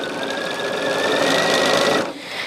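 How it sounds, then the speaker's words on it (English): Sewing machine stitching fabric pieces together, a fast continuous whirring and clatter at close range that runs for about two seconds, then slows and stops. "just sew as many of these together as I can in sets of"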